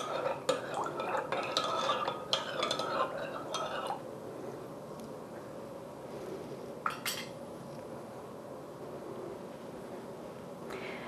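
Salt being stirred into lukewarm water in a bowl for vegan cinnamon bun dough, with rapid spoon clinks and scraping at the start, then quieter handling sounds and a few isolated knocks.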